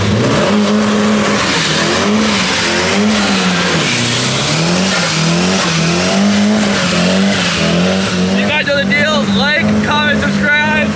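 A turbocharged Nissan Silvia with an SR20DE+T engine and a new clutch doing a burnout, the engine droning hard and wavering in pitch, with sharp tire squeal rising near the end and voices mixed in.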